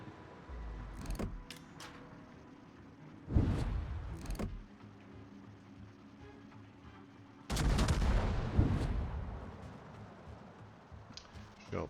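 Main battery salvos from the Tier VI battleship Fuso's 357mm guns in World of Warships, two heavy booming blasts several seconds apart over a low mechanical hum, with brief clanks between.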